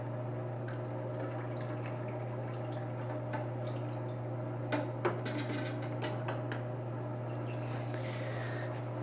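Liquid nitrifying bacteria is poured into a quarantine aquarium tank. Soft, scattered drips and splashes sit over a constant low hum from the tank equipment, faint and close.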